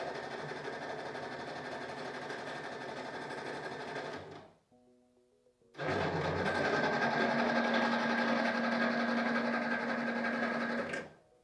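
A 3D-printed servo built from electric skateboard parts with metal brackets and screws runs with a steady mechanical whirring buzz, stops for a moment, then starts again with a rising motor tone before cutting off.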